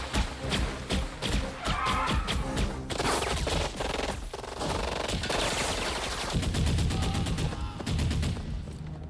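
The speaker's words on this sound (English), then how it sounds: "Gunshots, explosions, and hand-to-hand combat erupt as members from both sides lose their lives." Battle scene from an action film: dense, rapid bursts of gunfire and machine-gun volleys with booming thuds, continuous and loud throughout with almost no pause.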